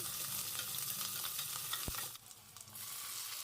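Chopped onions frying in oil in a pan for a mushroom masala, a steady soft sizzle with scraping stirs and one sharp tap, continuous and close.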